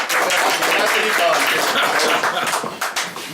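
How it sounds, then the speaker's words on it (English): A small audience at an evening shadowbox reveal gives a short burst of clapping for the first presenter, mixed with chatter, then thins into a few scattered claps toward the end. "big applause for going first."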